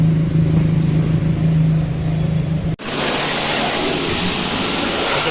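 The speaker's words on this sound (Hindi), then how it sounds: "सबसे पहले तो प्रेशर वॉश कर रहे हैं इसको।" A pressure washer sprays down a dirty Skoda Rapid at a car detailing shop; a low motor hum gives way to a sudden, loud, steady hiss of spray that carries on to the end.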